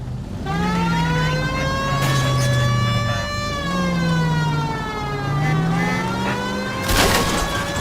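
A police car siren in the video game L.A. Noire wails, rising and falling repeatedly over a steady engine hum, with a brief burst of noise near the end.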